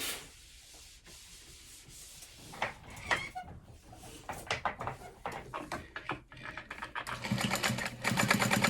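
A sewing machine top-stitching a seam on a fabric handbag, a steady mechanical whir that begins after a quiet start and grows louder and busier in the last few seconds.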